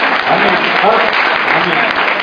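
A church congregation at a Sunday service applauds in a dense, continuous burst of clapping, with voices mixed in.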